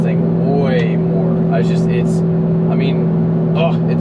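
A first-generation Audi R8 being driven, a steady engine hum and drone heard from inside the cabin under someone talking throughout.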